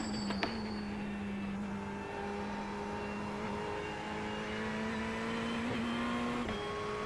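A GT3 race car in the iRacing simulator drones at a steady engine pitch, then climbs gradually as it accelerates, with a couple of quick shift blips, moderately loud and alone without talk.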